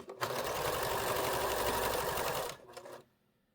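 A sewing machine stitches quilt binding in a fast, steady whirring run of close needle strokes for about two and a half seconds, then slows with a few final stitches and stops.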